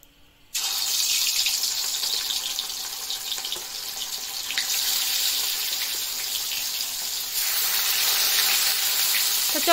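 Boal fish frying in a pan gives a loud, steady sizzle that starts abruptly and holds with a dense hiss, swelling slightly toward the end.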